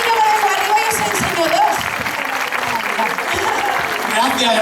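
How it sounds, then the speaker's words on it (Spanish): Applause from an audience at a folk-music festival after a jota dance step demonstration, a steady dense wash of clapping with voices and cheers mixed in throughout. "Un aplauso si queréis."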